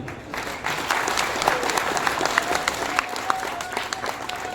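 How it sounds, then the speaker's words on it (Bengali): A gathering outdoors in a home courtyard breaks into applause for the convener, many hands clapping steadily at moderate distance, with scattered sharper claps standing out. "আমি অনুরোধ করব পলাশদার জন্য একটা সবাই মিলে হাততালি দেবেন।"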